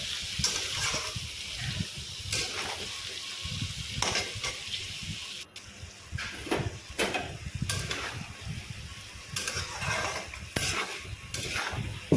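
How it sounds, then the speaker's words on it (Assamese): Taro sizzles steadily in a hot pan, with occasional scraping and stirring sounds from a utensil, close and moderately quiet. "এইখিনি অলপ টাইম ভাজি ৰাখিম, কাৰণ কচুখিনি অকণমান গলি যাব লাগিব।"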